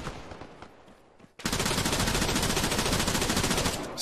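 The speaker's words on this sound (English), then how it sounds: "walking and firing a support gun like that, but by keeping the trigger down I fired a bit of suppressing fire" A support gun in Arma 3 opens up with a sustained burst of suppressing fire, loud and close. The rapid shots run without a break after a short, quieter lead-in.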